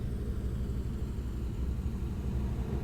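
Droning B-17G bomber engines in Flight Simulator 2024, heard at reduced game volume as a steady, dense low rumble with a broad noisy hiss, continuous and even, with no voices.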